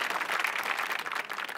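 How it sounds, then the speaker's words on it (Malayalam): A studio audience at a comedy show bursts into dense, lively applause, many hands clapping together in a steady roar throughout. "എന്തായാലും ആ ഹ്യൂമറിന് ഒരു വലിയ കൈയടി കൊടുക്കുക."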